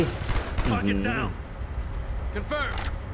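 Machine gun fire crackles in a Call of Duty Black Ops Soviet mission as sharp, rattling bursts of game gunfire. The bursts sound mid-distance and sit under excited voices talking throughout.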